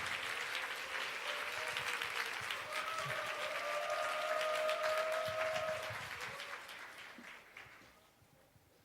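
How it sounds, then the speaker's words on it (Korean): Steady applause from a church congregation fills most of the clip, loud and continuous, then thins out and fades near the end. "환영의 박수로 함께 모시도록 하겠습니다."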